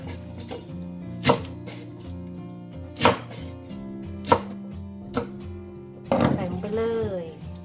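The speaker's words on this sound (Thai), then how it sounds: "หั่นเลยค่ะ" A knife chops shallots on a cutting board for pickling, four or five distinct crisp thuds spaced about a second apart, close and clear, followed by a burst of rustling and a spoken voice.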